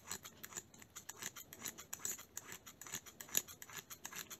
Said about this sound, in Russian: держим иголку и ножницами вводим по ней